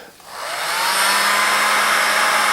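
Heat gun switched on high, spinning up in a moment into a steady loud blowing whoosh with a faint electric hum underneath, close and without talk.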